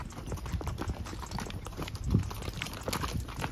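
Steady clip-clop of hooves at a walking pace, fairly close, with faint rustling and ambient noise around it.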